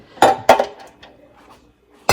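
USA Pans metal loaf pans clank together as they are handled, two sharp metallic knocks close together, a quieter rattle, then a third loud clang, with no voices.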